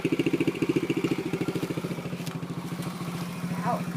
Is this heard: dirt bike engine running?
yes